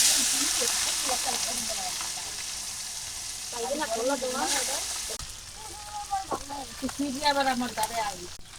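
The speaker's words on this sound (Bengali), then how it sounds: "কড়াই তেল গরম হয়ে গেছে আমি মাছগুলো দিয়ে দেই" Baila fish frying in hot oil in a wok, a steady bright sizzle with a voice talking over it at intervals.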